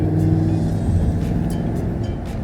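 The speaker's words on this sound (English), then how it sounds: "the noise, one of these things make a supercharged V8 is nothing better" Ford FG XR8 with a 5.4-litre supercharged V8 running steadily, a loud continuous low engine rumble with a faint whine over it, no talking.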